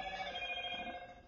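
A phone rings in a home kitchen while sweet and sour pork batter is being mixed with beer, giving a steady electronic ringtone with sustained tones that runs through the whole moment at moderate loudness, with no talk over it.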